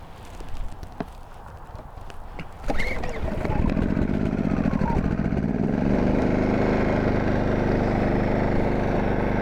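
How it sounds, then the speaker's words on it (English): A Wen 2350 watt generator, model 56235i, is started after a few quiet seconds, then roars into a loud, steady running drone that holds unbroken to the end. "I'm going to start this generator one more time"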